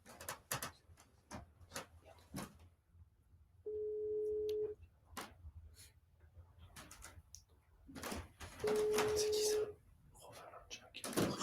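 Telephone ringback tones while waiting for someone to pick up, two separate steady buzzing tones a few seconds apart, heard between loud talk and laughter from several people.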